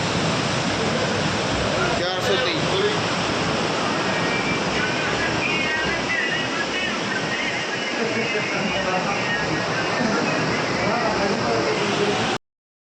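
Rushing cold mountain river water roars continuously and loudly, a dense unbroken wash of noise close by that cuts off abruptly at the end.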